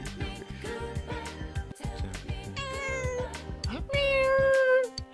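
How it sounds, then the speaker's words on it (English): In the video game Persona 4 Golden, a cat meows repeatedly at close range over background game music, with a few clear, rising meows near the end. "There's a cat."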